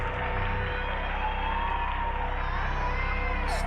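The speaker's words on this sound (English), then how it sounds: "the sounds of audience applause mix with the horrifying cries of children" A dense wash of crowd noise with whoops and high-pitched children's cries carries steadily throughout, loud and continuous without pause.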